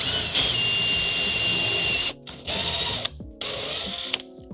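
A drill bores a hole in a fiberglass car wing, whirring steadily for about two seconds, then in two shorter bursts with brief pauses between, close and fairly loud.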